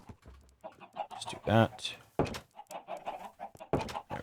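Chickens in the video game Minecraft cluck repeatedly in quick bursts, up close, while a person talks briefly over them.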